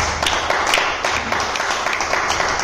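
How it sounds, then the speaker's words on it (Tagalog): A church congregation bursts into dense, loud applause during worship. Many hands clap together in a continuous close wash of claps. "Palakpak sa ating Diyos"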